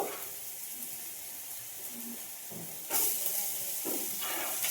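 Chopped cabbage and onion fry in oil in a pan for masala wheat dosa, giving a steady soft hiss that swells louder and brighter around the third second, with no voices.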